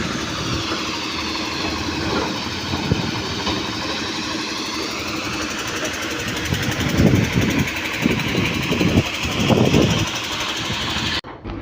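A boat's engine drones and rumbles steadily throughout at Porbandar harbour, with heavier low thuds swelling in the middle before it cuts out abruptly at the end.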